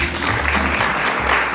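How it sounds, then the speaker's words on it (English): Congregation applause at a St James gathering, dense close clapping from many hands filling the short moment, loud and even throughout. "If you give her a round of applause."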